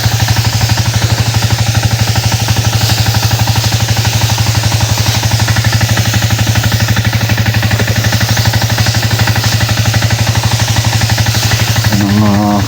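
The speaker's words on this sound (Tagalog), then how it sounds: "Dito naman ay paandar lang po tayo at tayo lang po ay mag-i-spray." A gasoline engine-powered backpack sprayer runs steadily and loud throughout, a constant rapid mechanical drone with rattling clatter, heard close up and alone.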